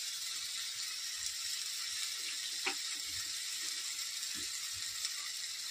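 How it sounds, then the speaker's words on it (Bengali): Water is poured into a pan of fried spices for fish curry, giving a steady hissing, bubbling sizzle that runs evenly throughout at low volume. "এখন এর মধ্যে জল দিয়ে দেবো।"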